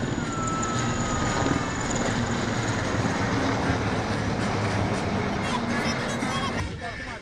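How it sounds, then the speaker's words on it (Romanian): Two IAR 330 Puma military helicopters, one naval and one air force, fly over a National Day parade in a city square, giving a loud, continuous rotor and turbine roar that holds steady throughout. "o formație mixtă formată dintr-un elicopter IAR 330 Puma Naval din dotarea grupului de elicoptere al forțelor navale și un elicopter IAR 330 Puma Soca"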